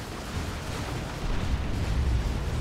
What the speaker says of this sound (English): And down goes the Predator tank.